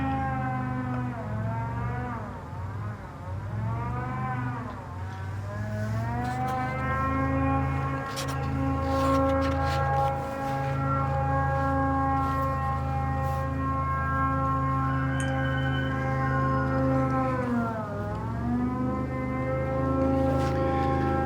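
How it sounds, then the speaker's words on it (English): A loud, droning engine roar with a wavering pitch that rises and falls, steady throughout with no talking, like a big propeller-driven boat running close by. "That's the sound of an airboat."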